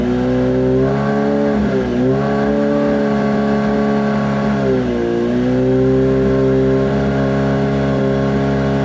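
A warmed-up Kawasaki Ninja H2 engine, fitted with a high-volume oil pump, idles loudly and close, then revs up twice to about 4,000 rpm with a rising, steady tone.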